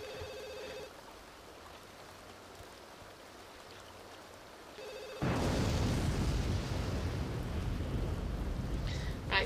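A telephone ringing in The Sims 2, two short electronic ring bursts separated by a quiet gap, with the second giving way to a loud, steady rain-like roar of game ambience.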